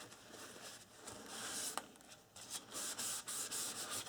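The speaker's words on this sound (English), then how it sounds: "Go ahead and burnish it down." A bone folder burnishes paper down on a calendar book album, giving close, soft rubbing strokes in quick uneven passes with a few brief scrapes.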